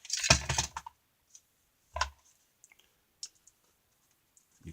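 Heat-softened cosplay material is cut with a loud crisp snip at first, then a second snip and a few faint scattered clicks separated by near silence, with no talking.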